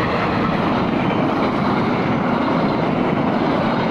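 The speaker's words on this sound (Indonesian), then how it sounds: "ini pakai kereta api Gajayana itu pakai lokomotif CC 203 guys" A loud, continuous rumbling roar of the Gajayana passenger train, hauled by a CC 203 diesel locomotive, running past close by through rice fields, steady and unbroken throughout.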